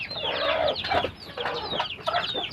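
Rhode Island Red and Dekalb White chickens clucking nearby, a busy overlapping stream of loud, close clucks and squawky calls from several birds.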